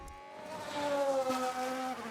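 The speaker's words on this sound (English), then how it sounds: "I think I could hear noises with this car" Formula 1 race car in F1 Manager 2022 at the Japanese Grand Prix with minor gearbox wear, engine droning at a steady high pitch that rises slightly, heard faintly from a distance with no talk.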